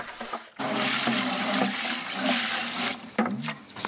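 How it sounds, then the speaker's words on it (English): Water rushes and splashes inside a bucket being rinsed out for a car wash, a sustained gushing swirl close by with a short gap near the start and sloshing toward the end. "So I'm going to clean this bucket first and get it ready to go."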